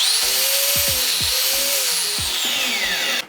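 A Bosch GWS 07-125 angle grinder runs close and loud, its high whine wavering slightly in pitch, with repeated low knocking pulses beneath it, until it stops abruptly at the end.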